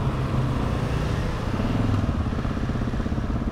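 BMW F900R motorcycle being ridden, a steady close engine drone with wind rush and a continuous throbbing rhythm, heard alone.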